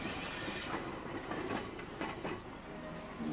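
Hong Kong's Peak Cable Tram climbs toward its hilltop station in the late 1930s, a steady rolling rumble with rhythmic rail clatter and faint wheel squeal, heard alone at moderate distance.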